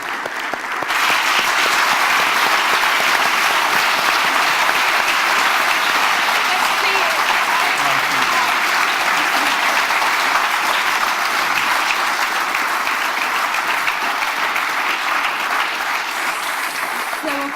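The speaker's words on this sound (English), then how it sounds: "Let's have a very big round of applause" An audience breaks into applause for Olympic skeleton champion Lizzy Yarnold at a live interview event. The sound is a loud, dense wall of clapping that starts after about a second and holds steady to the end.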